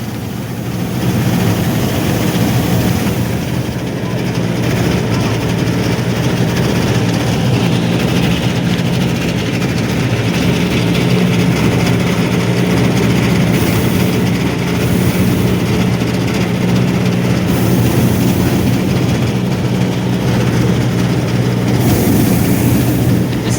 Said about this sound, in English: Bobby has decided to take me up for a flight. So this is my first flight in the airship.